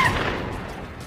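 A single gunshot from a gun firing a fake first bullet in a film scene: one sharp blast with a booming tail that fades over about a second.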